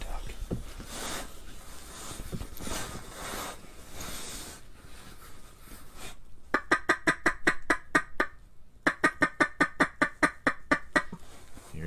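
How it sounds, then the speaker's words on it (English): A duck at a pool during a duck hunt quacks in a rapid, rhythmic series of loud, close calls, two bursts of evenly spaced quacks following a stretch of muffled background noise and low talk. "There's a duck."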